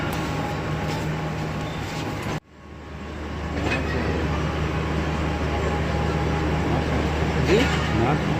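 A down freight train passes close alongside a moving train, and a sudden burst of air gives way to a loud, sustained rumble and clatter of wagons, with a voice faintly in the background.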